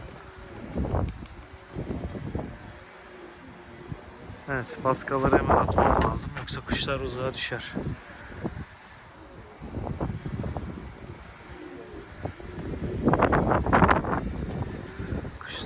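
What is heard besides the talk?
strong wind in a storm while flying pigeons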